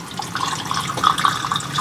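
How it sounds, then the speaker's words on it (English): Vodka pours down a travel trailer drain as a close, steady splashing trickle with small bubbling gurgles, heard alone for about two seconds. "I've never poured vodka down a drain before."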